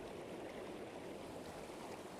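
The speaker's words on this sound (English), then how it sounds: "Soon we cross a stream." A mountain stream in New Zealand flows as a soft, continuous broadband wash of water, quiet and even throughout with no voices.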